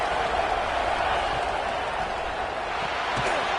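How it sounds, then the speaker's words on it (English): A big stadium crowd at a college football game, Canes at Ole Miss, roaring in a continuous, dense wash near the goal line, loud and sustained, with a commentator's voice faintly over it. "this big crowd doing everything possible to inspire this defense down here near the goal line"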